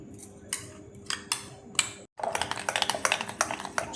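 A spoon stirs chickpea flour and milk powder together in a bowl for a paneer dish, giving a quick series of dry clicking scrapes and taps with a brief pause midway.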